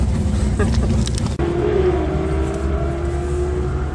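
A car engine at a Friday night drag race, a loud, sustained roar nearby that shifts pitch as it revs and then settles into a steady drone, with someone talking over it.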